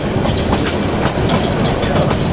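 Kishorganj Express passenger train running on rails, a loud, close, continuous rumble with rhythmic clickety-clack of wheels over the track joints and no talking.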